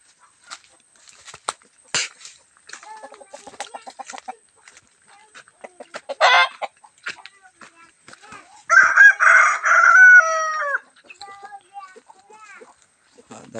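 Palawan native chickens in a rural yard: scattered nearby clucks and squawks, then a loud rooster crow rising and falling near the end, with a person talking intermittently.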